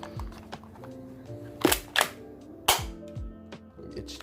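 An RXG18 Glock 18 gel blaster fitted with a screw-on suppressor fires three sharp, close pops, unevenly spaced over a low, busy background.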